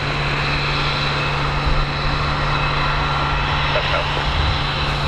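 An F-22 Raptor fighter jet on high-speed taxi at RAF Lakenheath, a loud, steady engine roar with a sustained whine that holds unchanged throughout.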